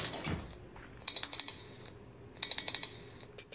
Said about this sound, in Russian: Умный будильник в виде коврика. В заданное время начинает издавать звуки или запускает определенную мелодию.